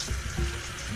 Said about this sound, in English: rinse the excess brine off.